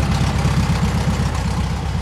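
A 1971 VW bus engine, recently revived with a new starter after sitting two years, idles steadily up close with a throbbing, slightly uneven low rumble and no talk.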